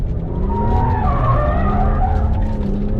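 A BMW 1M slides on a race track, its tires skidding and squealing in one sustained screech over loud engine noise, close by, with no talking.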